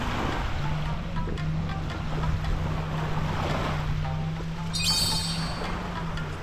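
Waves roll and wash along the shoreline of an Okinawa beach, a continuous broad rushing surf with wind buffeting the microphone and a faint brief high-pitched sound partway through; nobody speaks.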